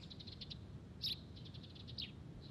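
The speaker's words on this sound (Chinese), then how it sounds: "两只鸟在说悄悄话呢。" Two birds twittering close by outdoors, short bright chirps in small bursts with two louder calls standing out over a soft background hiss.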